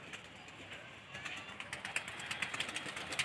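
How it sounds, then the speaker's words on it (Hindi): A pigeon perched up high coos softly in a series of short, faint calls that grow slightly stronger toward the end. "वहाँ जाकर बैठ गया है ये कबूतर"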